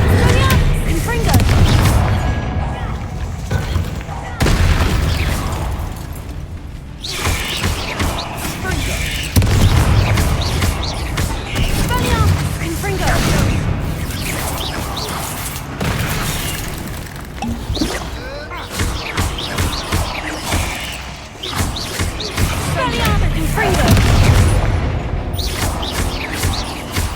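Blasting-spell explosions from the Confringo curse in Hogwarts Legacy, a string of loud booms and crackling bursts that repeat every few seconds over a rumbling game soundscape.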